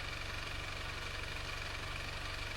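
The engine of a Toyota Land Cruiser 150 idles steadily throughout, a low, even, rhythmic throb under a constant mechanical hum, heard close and without speech.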